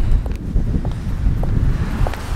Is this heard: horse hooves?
no